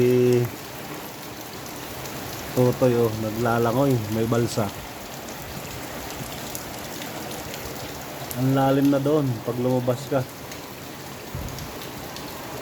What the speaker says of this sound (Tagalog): grabe at hindi pa tumitigil yung ulan